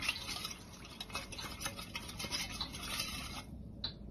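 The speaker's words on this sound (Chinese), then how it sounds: "用筷子慢慢的搅拌均匀" Chopsticks stir a small bowl of potato starch mixed with water, giving a soft, quick, rhythmic clinking and swishing close by that stops abruptly near the end, followed by one faint tap.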